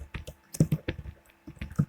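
Keys tapped on a computer keyboard while writing a line of JavaScript code: a brief run of quick, uneven clicks and taps, close and fairly clear, with no talking.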